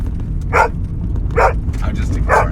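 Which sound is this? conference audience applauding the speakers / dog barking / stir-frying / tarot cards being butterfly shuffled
dog barking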